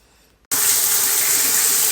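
Shower water bursts on suddenly after a near-silent moment and then pours as a steady, loud, close hiss that runs without a break, in a home bathroom during a morning routine.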